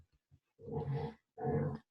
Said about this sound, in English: my dogs are deciding to play in the background.